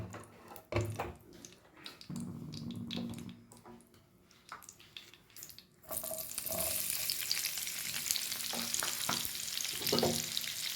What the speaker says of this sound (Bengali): ঘিয়ের মধ্যে আমি এখন পেঁয়াজগুলো ছেড়ে দেবো